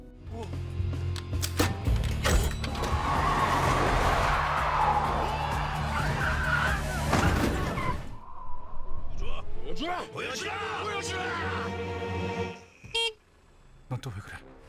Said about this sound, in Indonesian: Dia memamerkan teknik mengepot sampai bikin Rambo, anak buah Samidi yang nyetir mobil pengejar, panik di gang sempit Songdo dan hampir menabrak tembok berkali-kali